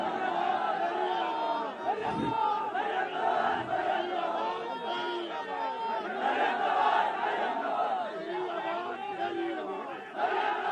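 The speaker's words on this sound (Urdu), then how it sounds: "نعرے لگاتے جاؤ، آپ کے ہاتھ تھک جائیں." A large crowd at a Pakistan Muslim League-N rally in Gilgit-Baltistan shouts and chants in rising and falling waves, loud and dense, with voices blending into a roar.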